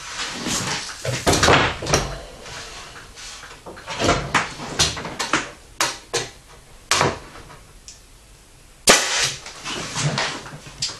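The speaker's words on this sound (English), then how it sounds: "hold the head of the gun nice and straight so that your nail doesn't stray off" Nail gun driving nails into wood framing while wrapping a lally column, a series of sharp, loud close-up bangs at irregular intervals, some in quick pairs, with handling clatter between shots.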